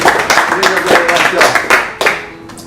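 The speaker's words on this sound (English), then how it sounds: "Massive round of applause." An audience at a pub quiz gives a loud round of applause, dense clapping that swells and fades over a couple of seconds, with a voice talking over it.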